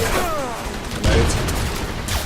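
Grenade detonating in a PC first-person shooter amid an ongoing gunfight, a loud single boom near the middle over continuous gunfire and battle noise.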